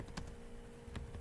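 Computer keyboard typing while filling in an email sign-up form: a few faint, scattered key clicks with a short pause between them, alone and quiet.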